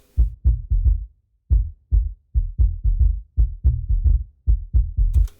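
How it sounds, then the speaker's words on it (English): Kick drum in a music mix boosted at 59 Hz, a deep booming thump repeating in a steady driving pattern, loud and alone, with one brief gap partway through. "this is what 59 hertz sounds like on a kick"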